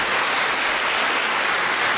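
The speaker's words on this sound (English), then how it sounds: "Mr. David Bilima, we applaud you too" Spectators at a debate competition on recycling policy break into loud, continuous applause, a thick, even wash of many hands clapping at once with no pauses and no voices.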